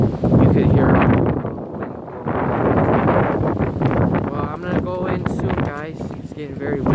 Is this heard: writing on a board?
no